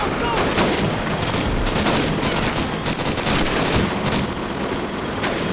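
Dense machine gun fire and shelling rage in a Call of Duty World War II battle at Karkov, loud bursts and booming impacts crowding together nonstop, with a voice occasionally shouting underneath.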